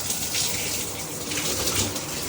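Water runs steadily from a leaking stainless steel rain shower head, a dense continuous hiss and splash close by, with no voices.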